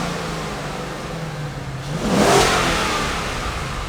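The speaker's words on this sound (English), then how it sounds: "We wanna hear what this thing sounds like without the full exhaust system, just the headers." A car engine with headers only and no full exhaust idles with a raspy hum, then revs up sharply and holds a loud, harsh, close-up roar before settling slightly, with no talk over it.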